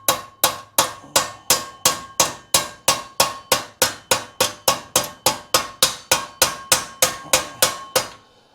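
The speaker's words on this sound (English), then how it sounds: "if you're using the hammer right, you're actually constantly dressing the surface as well" A hammer dresses and shapes a metal panel on a Suzuki GSX1100 Turbo motorcycle project, striking about twenty times in a brisk, even rhythm, each blow a sharp ringing clang that decays quickly, close and clear with no speech.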